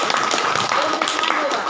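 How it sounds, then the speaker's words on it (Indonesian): Audience at a school education-program opening in Lubuk Pakam, Indonesia, clapping together in a brief, continuous patter of hands, fairly close and loud throughout. "Tepuk tangan dulu."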